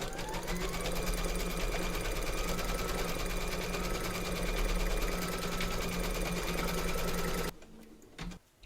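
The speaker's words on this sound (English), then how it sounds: "Pop your hoop into your machine and stitch round number 2 to secure it." An embroidery machine stitches a small appliqué letter, its needle running in a fast, even, continuous buzz for about seven seconds before stopping abruptly, leaving quiet handling noises.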